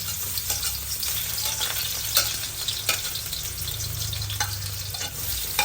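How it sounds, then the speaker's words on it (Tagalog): Food sautéing in a pan outdoors at a riverside family reunion cookout, a steady loud sizzle with stirring scrapes and clinks throughout, no voices. "Oh, gigisa na lahat."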